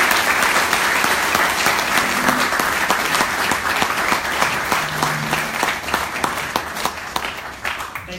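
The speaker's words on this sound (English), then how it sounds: "Please give him a round of applause." A campus event audience applauds Senator Rick Santorum with dense, sustained clapping that fills the whole stretch, loud and close, easing slightly near the end.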